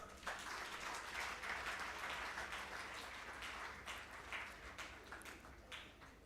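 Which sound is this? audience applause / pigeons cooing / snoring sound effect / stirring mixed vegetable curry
audience applause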